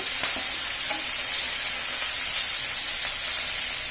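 Curry leaves drop into hot tempering oil for an okra stir-fry and crackle in a steady, bright hiss up close, with a few faint pops at the start and no one speaking.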